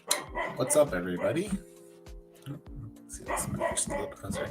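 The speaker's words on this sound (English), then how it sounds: "Sorry if you can hear the dog barking in the background." A dog barks several times in the background behind someone speaking close to a microphone, the barks short and intermittent.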